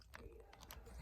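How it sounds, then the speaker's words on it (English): A dog chews on a leather-type hand pad used for flint knapping obsidian, giving soft, close, irregular gnawing and crunching bites over a steady low background, with no talk. "Tuna, why are you chewing on my my hand pad?"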